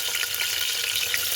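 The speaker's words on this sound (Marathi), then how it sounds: "फक्त आता बिर्याणीला फोडणी देते।" Hot oil hisses during tempering for mutton biryani, a steady close sizzle that holds throughout with no talk.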